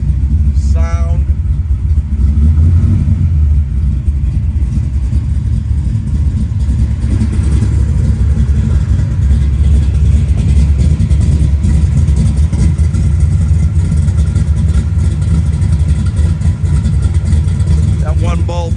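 A 1971 Chevrolet Camaro with a five-speed manual Tremec transmission runs its engine steadily with a loud, close rumble that swells slightly in places, while people talk faintly in the background.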